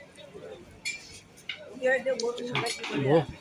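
Pots and utensils clink and clatter while food offerings are cooked at a temple puja kitchen, with intermittent metallic knocks and faint background voices.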